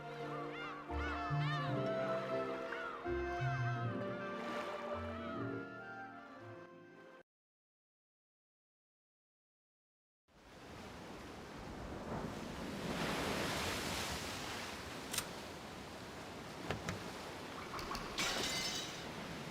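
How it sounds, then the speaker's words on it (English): A sound effect from the Umineko visual novel: music plays first, then a few seconds of silence, then ocean waves surge in and keep rolling and crashing with a broad wash of spray. "The sound of wave flows into my ear."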